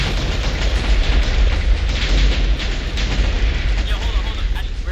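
Cannon fire and explosions in a naval civil-war video game, a continuous heavy rumble of booms and blasts layered together, loud and dense for the whole stretch, with talk mixed in.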